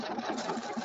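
A sewing machine fitted with a three-hole yarn foot runs steadily, a fast continuous mechanical whir with rhythmic stitching pulses, close by and alone.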